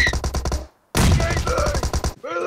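Gunshots in PUBG, rapid repeated shots in two bursts separated by a brief gap, loud and close, with a short voiced sound at the end.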